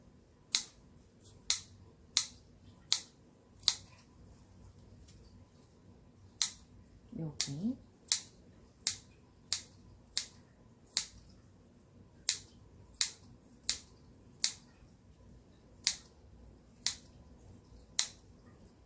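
Sharp scissor snips notching curved fabric seam allowances repeat at a quick, steady rhythm, close and crisp, with a brief murmur of speech partway through.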